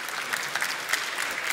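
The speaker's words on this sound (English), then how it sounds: "Can I get a huge round of applause for Mike" Brief, steady applause rises from a comic con panel audience in London, a dense patter of many hands clapping at moderate volume.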